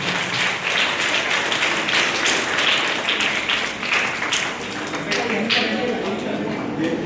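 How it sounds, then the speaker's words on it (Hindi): Audience applause for a first-prize winner receiving a certificate at a traditional cultural workshop: dense, sustained clapping from a large group that fills the full seven seconds at a steady, loud level. "जोरदार तालियां उन्नति के लिए"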